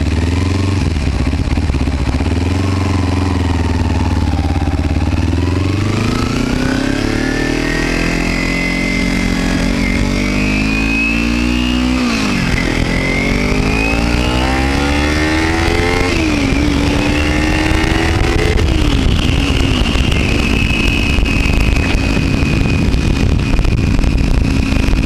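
A Kawasaki Ninja 300 motorcycle is ridden on a hot road, its engine loud and close, revving up and down through repeated gear changes over steady wind rush.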